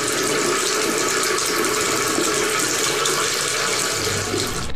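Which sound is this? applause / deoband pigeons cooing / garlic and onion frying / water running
water running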